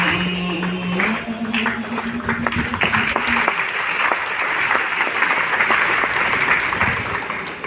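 An audience at a Hindi poetry recital bursting into sustained, dense applause that swells after a brief opening moment and carries steadily to the end, loud and close, with a voice faintly audible beneath at the start.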